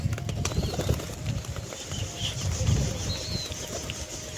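Pigeons in a loft, soft cooing mixed with bursts of wing flapping and shuffling, close and moderately loud with no talking.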